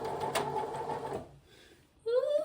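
A sewing machine stitches a straight seam on garment pieces while skipping threads, a fast buzzing mechanical run that stops abruptly, followed by a quiet pause and then a higher whirring burst.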